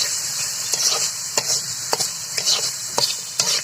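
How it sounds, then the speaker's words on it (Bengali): Cumin seeds, turmeric and salt frying in a pan while being stirred, a bright continuous sizzle broken by regular scraping clicks of the spoon, close up and with no talking. "সব কিছু একেবারে নাড়াচাড়া করে দিচ্ছি।"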